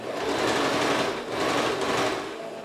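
A sewing machine stitches the crotch seam of men's shorts, a steady close mechanical whirr that swells in two runs, with no voices.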